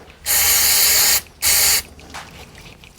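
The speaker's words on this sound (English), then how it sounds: "get some contact cleaner, so electronic contact cleaner, and give these a good soaking" Electronic contact cleaner sprayed onto oily VCT solenoid plugs on a Ford Barra engine: two loud, close aerosol hisses, the first about a second long and the second shorter, then quiet fizzing.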